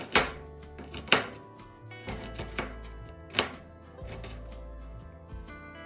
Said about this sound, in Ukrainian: розрізаю її навпіл та нарізаю невеличкими кубиками